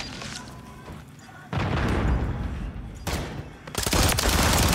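A grenade launcher fires in Call of Duty Modern Warfare III, with loud, heavy booming blasts that hit in a few separate bursts over steady game noise.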